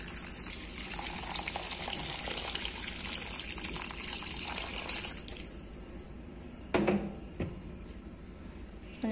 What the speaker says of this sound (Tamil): இப்ப நம்ம ஃபர்ஸ்ட் இந்த அரிசிய தண்ணியில கொஞ்சம் ஊற வச்சுக்கலாம்.